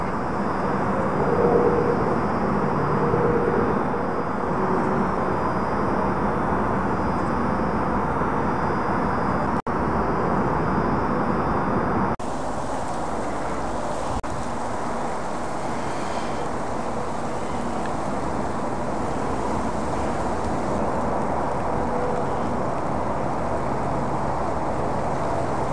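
Steady wind blows hard through an outdoor wildfowl hunting spot as snow begins, a dense continuous roar with gusting texture that shifts slightly midway, loud and close, with no speech.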